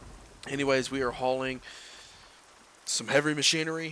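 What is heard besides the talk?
rain in American Truck Simulator video game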